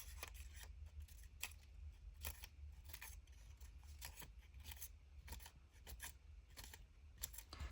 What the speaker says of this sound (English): Just going to go snip, snip, snip.